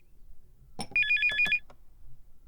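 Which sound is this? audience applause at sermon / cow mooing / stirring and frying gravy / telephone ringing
telephone ringing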